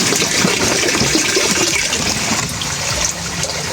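Water runs steadily through a catfish hatchery tank, a continuous broadband splashing trickle that stays loud and close with no pauses.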